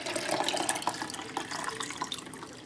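Homemade sweet iced tea pours into a container with a splashing, gurgling trickle, close by and moderately loud, with no voices.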